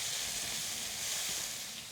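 Tofu sizzles steadily in a hot wok, a loud continuous frying hiss that holds even throughout with no voices over it.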